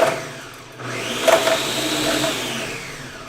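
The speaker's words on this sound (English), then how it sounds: "There's a button called smoothie on the blender." A kitchen blender runs on its smoothie setting, blending a smoothie with a steady motor whine. The pitch shifts slightly as the contents churn, and the machine sounds close and alone.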